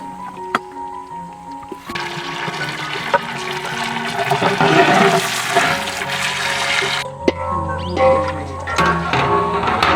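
Water pours in a heavy, rushing stream for cooking a large batch of Maggi noodles outdoors in a village, loud and close and lasting several seconds, with clanks of the vessel and faint background tones.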